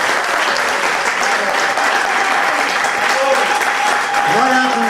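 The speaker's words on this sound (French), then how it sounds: "vous pouvez continuer à applaudir." Sustained audience applause fills a French literary café event, dense and steady clapping from a full room, loud and close with no pauses.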